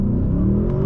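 A 2022 Audi S8 luxury sedan pulls away hard from a torque-brake launch on a wet road, its engine giving a deep, loud, rising roar heard close up for under a second.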